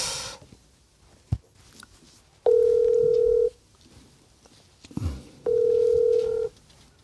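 Telephone call being connected, with two long steady ringback tones, each lasting about a second, separated by short pauses and faint clicks, clear and alone without talk.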